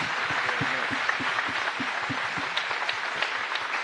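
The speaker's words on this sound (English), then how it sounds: "Round of applause for Steph Curry." A crowd at a Warriors Jr NBA parent forum claps steadily throughout, a dense patter of applause without pause.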